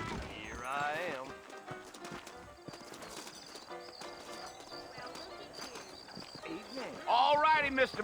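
Horse hooves clip-clopping in the Western video game Red Dead Redemption, a rhythmic trot under game music and character dialogue, with a louder burst near the end.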